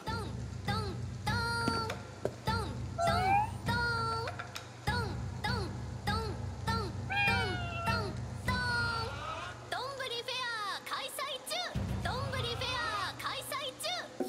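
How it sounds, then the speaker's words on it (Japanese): A cat (a yokai) in the video game Ghostwire: Tokyo meows repeatedly, wavering cries rising and falling over a steady ticking and low ambient hum, fairly close and clear. "何あれ、猫？ あれは妖怪だな。"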